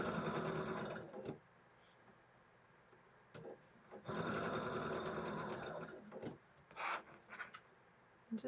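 A sewing machine stitches quilt blocks together corner to corner, running in several steady bursts of a second or two each with pauses between them. The whirring is fairly quiet and close.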